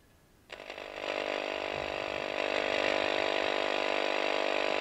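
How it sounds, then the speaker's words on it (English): An AM radio tuned near 2 MHz picks up electrical interference radiated by room lighting fixtures, a loud, steady buzzing static that switches on abruptly and holds with a dense, harsh hum and no speech. "I have an AM radio here, which I have on the AM dial all the way over to the right"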